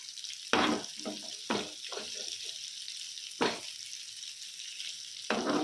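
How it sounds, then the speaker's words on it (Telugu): Chicken pieces coated in masala fry in a pan on a low flame. Loud bursts of sizzling and stirring come in several separate surges, with a quieter steady hiss between them. "ఇదంతా దగ్గరికి ఎగిరిపోయేంత వరకు బాగా ఫ్రై చేసుకోవాలి"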